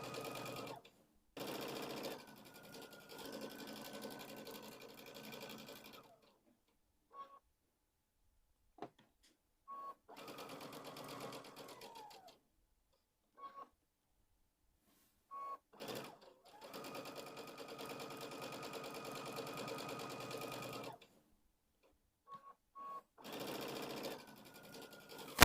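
A sewing machine stitches a fabric pumpkin pillow in several loud, steady motor bursts of a few seconds each, separated by short silent pauses.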